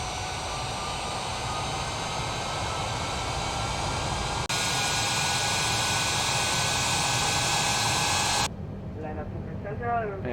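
Jet engines of a Lufthansa 787 at takeoff power in Microsoft Flight Simulator, a loud, steady broadband roar that jumps in level partway through before dropping away, with a voice briefly heard near the end.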